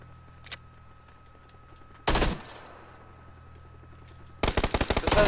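Gunfire in the video game PUBG: a single faint shot, then a sharp loud blast with a lingering tail, then a rapid burst of automatic fire at the end, over a low, quiet background hum.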